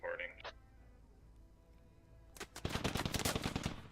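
A fast burst of automatic gunfire in a competitive military shooter rattles out loud and close near the end, after a quiet stretch and a brief voice at the start.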